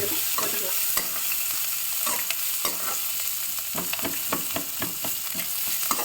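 Onions and curry leaves sauté in a hot pan with a steady sizzle, while a spoon stirs them in repeated scraping strokes close by; no one talks.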